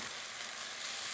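Chicken stock with garlic bubbling at a boil in a pan, a steady, dense sizzling hiss that stays even and close throughout, with no talking.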